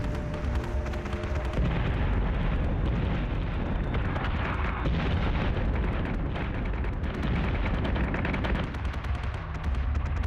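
Weapon fire and nuclear explosions in the space combat game Battlestar Galactica: Deadlock form a dense, continuous barrage of booming blasts and rapid gunfire, heavy and unbroken throughout with no talking.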